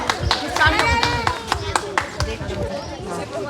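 People at an environmental protection event in Delhi clap in a loose, uneven burst of sharp, separate claps rather than a solid roar. The claps are fairly close and mixed with voices and crowd chatter.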